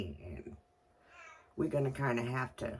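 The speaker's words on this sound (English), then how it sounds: "if you hear the cat crying, he's letting everybody know that we have forgotten breakfast" A hungry cat meows briefly for breakfast, a faint cry in the background between stretches of close conversational talk.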